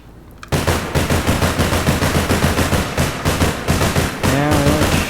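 An SR-15 rifle with a cooling jacket firing in APB Reloaded, a loud, close, rapid stream of shots lasting several seconds, with a brief pause near the end before firing resumes.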